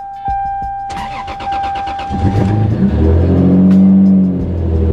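A car engine cranks with a rapid chatter, catches, and roars up loudly before settling into a strong idle, preceded by a faint electronic tone.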